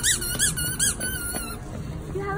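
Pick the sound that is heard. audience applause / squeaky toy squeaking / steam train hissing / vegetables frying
squeaky toy squeaking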